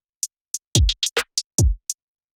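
Programmed drum pattern from an FL Studio beat with a halftime triplet feel: crisp hi-hat ticks spaced through the bar alongside two deep booming kick-like hits with long low tails, loud and dry with no voices.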